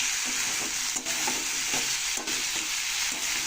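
Ingredients for a fish dish (mayurala fish) fry in a pan with turmeric, a constant close sizzle with rhythmic scraping stirs about every half second, no talk.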